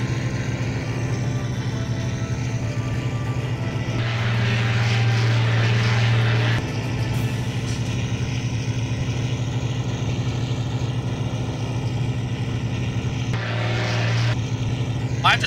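Droning multi-engine propeller hum from a WWII bomber in a flight video game, steady and continuous throughout with a brief louder swell midway and near the end.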